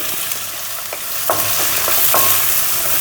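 Urad dal, ginger and shallots frying in oil for traditional uppumavu, a loud continuous sizzle with a few scraping stirs of a spoon in the pan.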